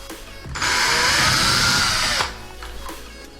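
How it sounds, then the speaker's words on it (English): A power drill pre-drills holes while a pedestal sink is installed in a bathroom, one loud whining burst of about two seconds that stops sharply, with quiet room noise before and after. "So I'm gonna pre-drill those holes now."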